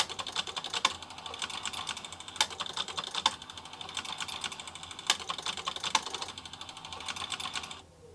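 A Laser 200 pen plotter head shuttles and clicks in rapid mechanical bursts, with several sharper snaps at irregular intervals, close and moderately loud before stopping abruptly at the end.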